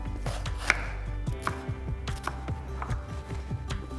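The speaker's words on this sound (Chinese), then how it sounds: "切半个彩椒" A knife chops half a bell pepper on a board while preparing sweet and sour pork with lychee. The crisp, irregular chops repeat over a few seconds, with soft background music underneath.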